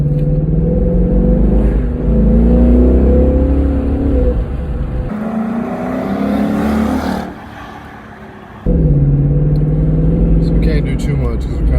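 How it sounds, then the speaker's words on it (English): A Ford Mustang GT V8 with a resonator delete revs its exhaust in a quiet neighborhood, a deep, rumbling engine note rising and falling in loud surges, with people talking over it. "the stock Mustang GT versus a Mustang GT with a resonator delete. So right now we're just doing some sound clips"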